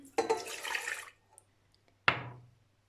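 Milk pours into a bowl in a short splashing stream for about a second, followed by a sharp clunk of the container being set down with a brief ringing decay, close and clear.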